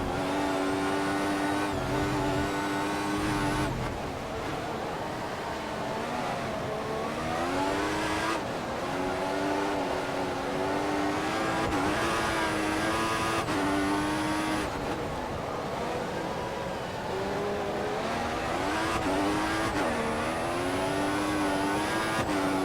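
A Formula One car in the F1 2014 racing game howls around the Brazilian Grand Prix circuit, with engine pitch climbing and dropping through shifts and corners, loud and continuous without break.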